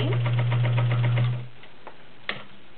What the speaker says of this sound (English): We'll start with a two-layer sample. It's a nice smooth machine.